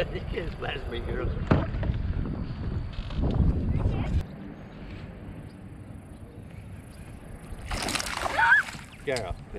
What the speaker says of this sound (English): You can't splash me, girl.